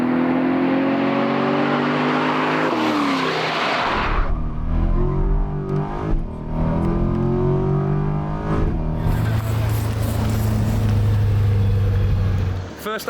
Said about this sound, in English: we did a recce lap to learn the track in a new Corvette.